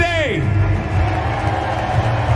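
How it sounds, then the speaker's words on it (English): Arena audience at the Fortnite World Cup Finals roaring with sustained cheering, whoops and applause, a dense continuous crowd wash with a rising voice-like whoop near the start. "give yourselves a round of applause for being here with us today."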